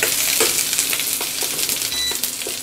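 Drumstick leaves sauté in hot ghee for herbal paal kova, a loud continuous sizzle close up with quick, repeated stirring scrapes throughout.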